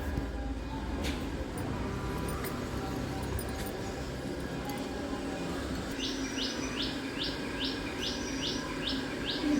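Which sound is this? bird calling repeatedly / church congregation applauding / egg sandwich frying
bird calling repeatedly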